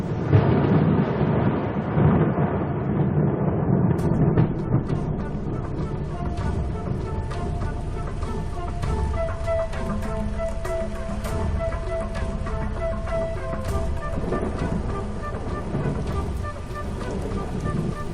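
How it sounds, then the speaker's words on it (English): A dense, continuous rush of heavy rain with low rumbling thunder, loud and enveloping throughout. "the promised rain arrives at last."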